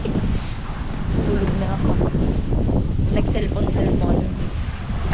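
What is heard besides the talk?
strong wind at the coast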